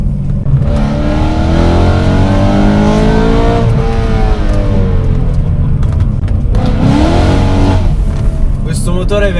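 BMW M3 E92 with its naturally aspirated engine revving loudly and continuously, pitch rising and falling through repeated throttle blips, close up, with voices talking faintly underneath.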